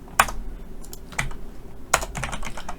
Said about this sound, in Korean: 그래서 따로 타이핑 하겠습니다